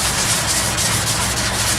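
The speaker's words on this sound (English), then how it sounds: "what I'm trying to do here is kind of block sand it" Steady, continuous rasping of block sanding on a cracked plastic car bumper, close and loud with an even scratchy texture and no pauses.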